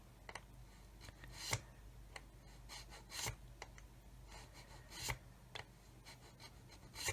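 A scribing tool scratches panel lines into a plastic part of a Revell 1/144 Apollo Saturn V model kit, giving quiet, close, irregular rasping strokes with sharper scrapes at intervals.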